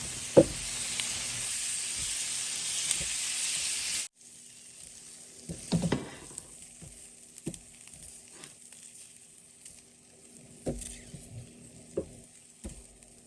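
Soft frying sizzle up close for a few seconds as wild asparagus cooks, then quieter crackling with occasional scrapes and stirring taps in a small pan.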